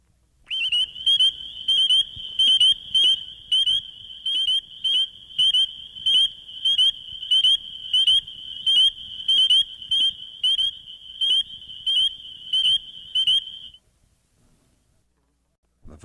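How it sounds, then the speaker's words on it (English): A spring peeper tree frog, Hyla crucifer, gives a long run of high, clear, rising peeps at a quick, even pace, close and alone on a quiet background, stopping near the end. "Tiny tree frog, the spring peeper, Hyla crucifer, is found throughout most of the eastern portion of the United States."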